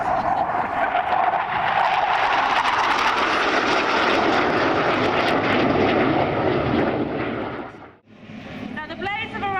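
Blades aerobatic team aircraft fly past in Manta formation at an airshow, a loud broad engine roar sustained for about eight seconds before cutting off briefly, then rising again as another pass follows.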